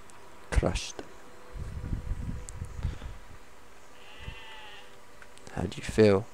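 Sheep bleat in the video game Besiege, with a wavering bleat near the start and another near the end, over a low buzzing hum and scattered game-like noises.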